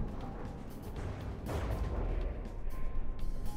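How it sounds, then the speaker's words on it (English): A distant explosion in the video game From the Depths booms amid steady rumbling gunfire and crackling battle noise, the blast swelling midway and lingering under continuous combat sounds. "Ooh, that's an explosion."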